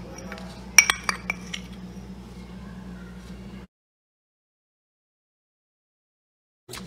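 Several bright clinks of a spoon against a pan ring out while almonds and dried date powder are stirred together for a Panchakhadya sweet. A low steady hum sits beneath, then everything falls silent.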